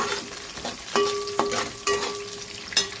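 Peanuts, green chillies and chana dal frying in a pan, a continuous sizzle broken by several sharp stirring scrapes and clinks of a utensil.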